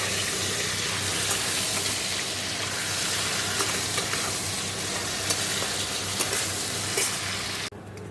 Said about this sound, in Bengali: এখানে দেখো কাঁকড়াগুলো একটু ভেজে নিচ্ছি হালকাভাবে তেলে